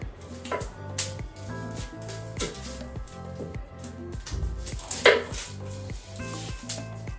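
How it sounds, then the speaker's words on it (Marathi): An onion is cut finely with a knife on a board, giving a run of quick, regular close chops with a few louder knocks and faint kitchen clatter behind. "इथे कांदा काटून घेते आता एक."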